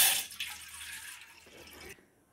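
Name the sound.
pouring a glass of water into a cooking pot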